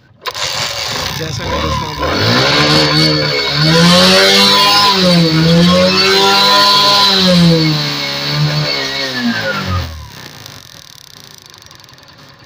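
A motorcycle that had a misfiring fault, its ignition coil being changed, starts and then revs up and down loudly and close for several seconds before cutting off, with a voice talking over it.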